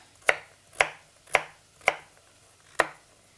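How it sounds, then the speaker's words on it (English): Five sharp knife chops cut carrots into small pieces on a cutting board at a steady, unhurried pace, close up and crisp, with quiet between each cut. "So I'm chopping my carrots quite small"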